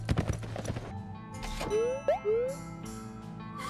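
Horse hooves clip-clop in The Escapists 2 prison game, a quick run of clattering steps at the start, followed by brief whinny-like rising tones and jingling game effects.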